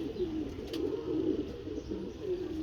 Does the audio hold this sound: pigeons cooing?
yes